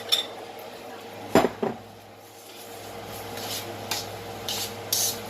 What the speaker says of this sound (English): I'm going to add my meat back into my mixture.